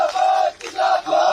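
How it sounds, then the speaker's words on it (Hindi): A crowd at a Sachin Pilot political rally in India shouts slogans in unison, loud and close, in two or three rhythmic bursts separated by a brief pause. "नारा भी लगा दिया, हाँ भी बोल दिया, ताली बजा दी"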